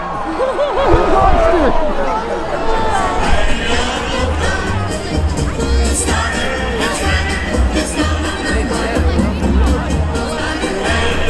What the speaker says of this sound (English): there was something immensely funny about an entire crowd of people booing this little groundhog